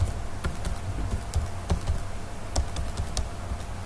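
Quick, irregular key taps on a computer keyboard as an email address is entered, close and moderately quiet, steady clicking for a few seconds with no talk.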